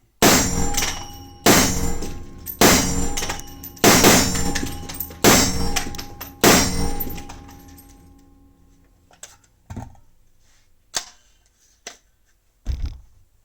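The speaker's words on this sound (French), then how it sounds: "j'ai tiré, je crois, 5 ou 6 cartouches" An FN SCAR 17H rifle fires six sharp, evenly spaced shots, each ringing out and fading, followed by scattered lighter clicks and clanks of the action or spent casings, with no talk.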